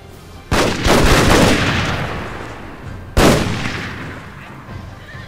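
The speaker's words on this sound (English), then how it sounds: "I'll just go in first person and shoot some stuff." Artillery-like gunfire in the game Shogun 2: Fall of the Samurai, fired from a first-person view, two loud, close blasts about three seconds apart, each followed by a rumbling, fading echo.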